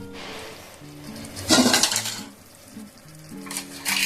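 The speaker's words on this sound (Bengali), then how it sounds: "এবার এটাকে খুব ভালো করে কষিয়ে নেবো আমি এখন, যেমন আমরা মাংস কষাই ঠিক সেইভাবে কষিয়ে নেব" Spice masala for ghugni being fried down in a pan, with soft sizzling and a couple of louder scraping, clattering bursts from stirring, near and without speech.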